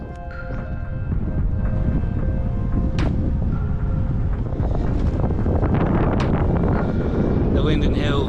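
Strong wind roars steadily across the microphone during a long-distance bicycle ride on a hilly road between Norseman and Albany, a continuous loud buffeting rush with gusty swells.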